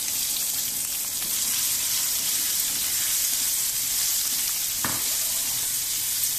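Chopped potatoes frying with turmeric and cumin in a pan: a loud, bright, hissing sizzle that holds steady throughout, with one short scrape or stir partway through, and no voices.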